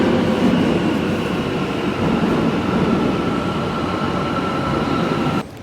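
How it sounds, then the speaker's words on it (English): A subway train rumbles loudly and steadily into a station, a continuous roar of wheels and motor that cuts off abruptly near the end. "Alright, so I'm just waiting for the train."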